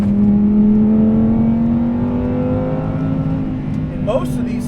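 A 2020 Lamborghini Huracan Evo's engine revs steadily upward toward redline, a loud rising drone close by, then a quick upshift near the end.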